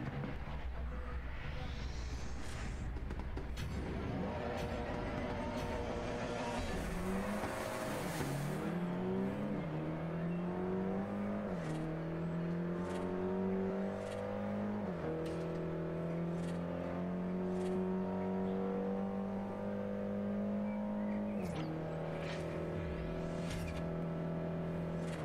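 Race car in Forza Horizon speeding along, its engine note climbing and shifting through gears with steady high revs, loud and continuous with no talk.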